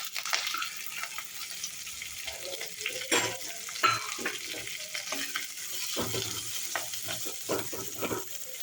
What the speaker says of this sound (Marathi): हे मेथी आहे ती आपण तेलामध्ये फ्राय करून घ्यायची आहे